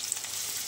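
Onion frying in a pan for shev bhaji, a brief steady hiss of sizzling oil heard close and fairly quiet.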